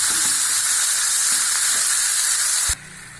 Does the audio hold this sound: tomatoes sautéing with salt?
yes